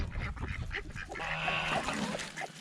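Ducks and geese of a backyard flock honk and quack repeatedly while being fed, close and fairly loud, with overlapping calls and shuffling in the background.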